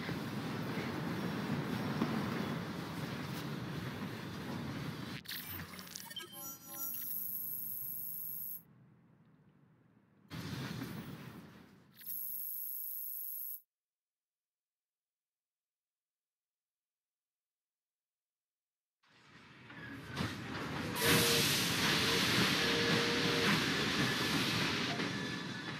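A train running in Assassin's Creed Syndicate gives a steady rumbling rattle with metallic clanks and a high whine. It cuts out briefly, goes fully silent for several seconds, then returns loud and close.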